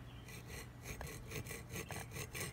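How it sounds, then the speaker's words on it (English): A hacksaw cuts through copper pipe with quick back-and-forth rasping strokes in a steady rhythm, faint and close, with no talking. "I use a hacksaw, cut the copper pipe"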